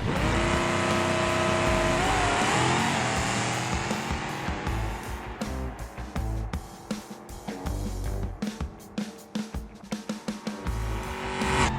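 A Gavril D-Series drag car in a BeamNG racing game, fitted with narrower front drag tires, roars loudly as it launches and accelerates hard, its engine climbing in pitch before a series of sharp gear shifts and stuttering bursts near the end.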